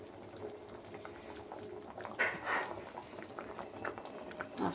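A pot of dal bubbles at a low simmer, soft and fairly faint, with a continuous gentle burble and a few brief louder pops, no voices over it.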